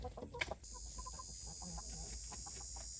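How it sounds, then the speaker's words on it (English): A chicken clucks softly a few times nearby in a backyard coop, with faint short calls over a quiet background with a steady high insect-like whine. "First, let's see what the chicken's doing."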